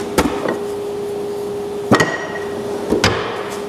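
Steel hammers clank and thunk as they are picked up and set down in a shop toolbox on a woodworking outfeed table, three sharp metallic knocks spaced over a few seconds, close and fairly loud against a faint steady hum.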